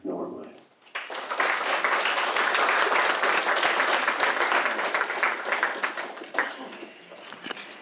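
An audience at a poetry reading breaks into loud, dense applause that welcomes poet Nick Norwood, following a brief spoken introduction. The clapping holds steady for several seconds and then tapers slightly toward the end.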